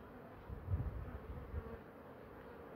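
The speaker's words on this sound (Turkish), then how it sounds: "Arılarımız kovanda sıkışmaya başladı." Honeybees buzz steadily around crowded beehives in a village apiary in Ardahan on a warm late-May day, a low continuous hum with no voices.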